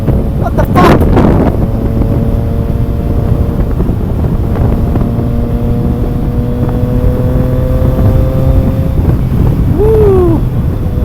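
Triumph Trident motorcycle engine droning loudly and steadily at speed in sixth gear, with harmonic tones that rise and fall, and heavy wind buffeting the microphone throughout the commute.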